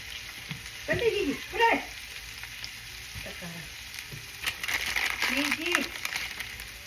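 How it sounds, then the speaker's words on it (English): Mexican squash, carrots, onions, green chile and tomatoes fry in a pan with a soft, steady sizzle and occasional stirring clatter, close by, under someone talking. "to cook up the veggies. So we have the Mexican squash, carrots, onions, some chile verde or serrano, and tomatoes."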